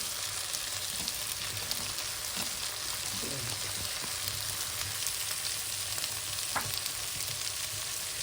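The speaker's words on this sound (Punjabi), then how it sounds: "ਹੁਣ ਆਪਾਂ ਪਾਉਨੇ ਆ ਸ਼ਿਮਲਾ ਮਿਰਚ" Chopped capsicum fries in a pan for pasta, a steady, fairly quiet sizzle running throughout, broken by occasional soft stirring scrapes and knocks, with no voices.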